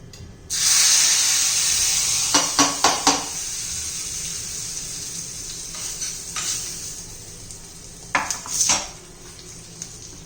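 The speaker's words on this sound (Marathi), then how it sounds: "आता आपण या चटणीवर घालून घेऊया" Hot tempering with two red chillies is poured onto green tomato chutney and sizzles sharply at once, then settles into a steady fizz, with a few quick spoon clinks against the pan near the start and again near the end.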